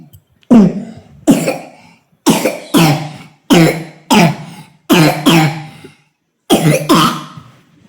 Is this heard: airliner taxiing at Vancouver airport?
no